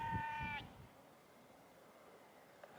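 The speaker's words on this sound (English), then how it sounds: "That's that sheep." A sheep bleats once, a short wavering cry at the start, followed by quiet outdoor ambience and a faint distant sound near the end.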